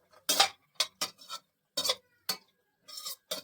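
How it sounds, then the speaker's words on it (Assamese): Bamboo shoots and chickpeas stirred in a pan, a series of short, crisp spatula scrapes against metal, close and irregular, separated by brief silences. "আৰু এইফালে অলপ দেৰি লৰাই লৈছোঁ।"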